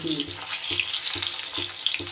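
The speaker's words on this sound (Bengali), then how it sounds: "একটু হালকা করে এপিট ওপিট করে আমি ভেজে নেব সব মাছগুলো" Katla fish pieces frying lightly in hot oil in a pan, a steady broadband sizzle with a faint periodic low thump roughly every half second.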